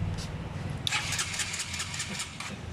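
A Honda CBR 150 motorcycle engine cranks briefly and catches, then settles into a quiet, rapid idle, heard faint and somewhat distant.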